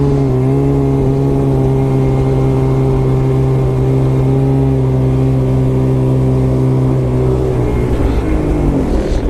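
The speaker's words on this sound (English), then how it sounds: "hopefully you guys will get the idea of what it's like to ride a snowmobile." Loud, steady engine drone from a 2017 Polaris Switchback Assault snowmobile while riding, holding a constant pitch for about eight seconds before easing off near the end.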